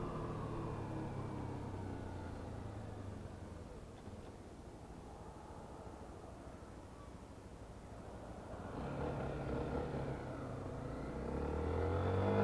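A Honda XRE 300 motorcycle from 2020 rides along a road, giving a low, fairly quiet engine drone with wind rush that swells toward the end as it speeds up.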